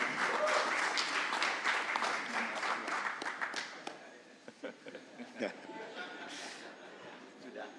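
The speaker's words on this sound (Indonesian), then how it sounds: "Kita berikan tepuk tangan yang meriah buat Pak Ganjar Pranowo dan Prof. Mahfud MD" A crowd applauds for Ganjar Pranowo and Mahfud MD at their 2024 presidential ticket declaration. The clapping starts dense, then thins to scattered claps as a voice talks over it.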